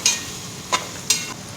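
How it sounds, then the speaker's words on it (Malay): A spoon stirs kima curry with minced meat, peas and green chili in a pan, giving three short scraping strokes spaced apart over a faint steady sizzle. "Kacau-kacau manja sampai kuah kima kita ni jadi pekat, kering-kering basah dan melekat elok pada daging."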